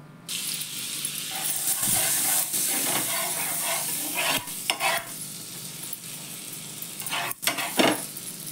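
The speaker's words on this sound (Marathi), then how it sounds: "भाजून घेते मी." Kutchi dabeli buns roasting in a hot pan give a steady, close sizzle with bursts of stirring and scraping, brief dips where the pan is moved, and no talking.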